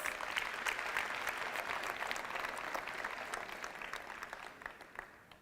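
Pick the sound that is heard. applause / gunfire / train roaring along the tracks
applause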